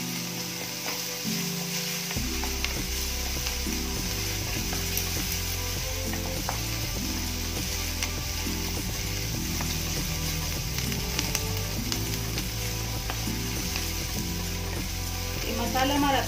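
Chillies and finely ground garlic-ginger paste frying in oil over a medium flame for a tomato paratha masala, a loud, continuous sizzle close up with occasional stirring clatter running the whole time.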